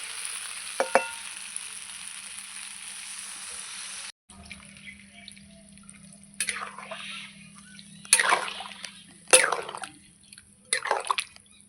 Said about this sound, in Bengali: মশলা কষানো হয়ে গেছে এই যে এবার জল দিয়ে দেবো